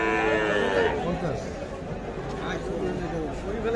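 A Sahiwal bull at a busy cattle market gives a low mooing call, close and fairly loud over background crowd chatter and people talking.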